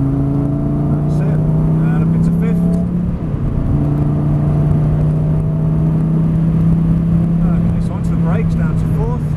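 A Lamborghini on a race track during a driving experience gives a strong, droning engine tone that climbs gradually in pitch under acceleration, heard from inside the car, with an instructor's voice speaking over it.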